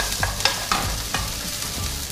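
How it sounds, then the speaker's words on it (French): Onions cook in a pan over medium heat for an Indian chicken handi, a close, steady sizzle broken by a few quick stirring scrapes and clicks, with no voices. "je vais cuire ces oignons pendant 5-6 minutes sur un feu moyen"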